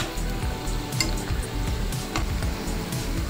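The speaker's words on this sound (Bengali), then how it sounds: "তেলটা হালকা গরম হলে এর মধ্যে খাজাগুলো দিয়ে লো টু মিডিয়াম আছে এটাকে ভেজে নেব।" Mini mango khaja pastries fry in hot oil over low to medium heat, giving a steady dense sizzle with scattered crisp pops and bubbling throughout, close and continuous.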